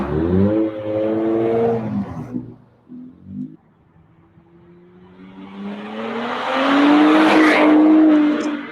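A bagged, lowered Nissan Z makes a flyby, its engine note droning up as it nears, then dipping out before swelling again into a loud, rising roar as it passes close.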